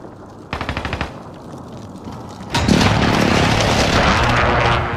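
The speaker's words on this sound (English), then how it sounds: "Enemy precision airstrike. Take cover." Precision airstrike explosions hit in a video game. A burst of rapid, loud impacts is followed by a heavier, sustained roaring blast that fills the second half, close and intense.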